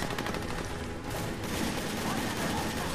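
Rapid bursts of automatic gunfire from a firefight in Army of Two: The Devil's Cartel, dense and continuous across the whole stretch, with the volleys overlapping into a steady crackle.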